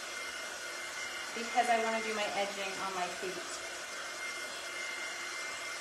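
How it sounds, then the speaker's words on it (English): A hot air gun blows steadily to dry paint on a wooden Easter Bunny porch leaner, a constant close whooshing roar that continues under someone speaking. "It's a hot air gun, not a hair dryer, only because that's what I have."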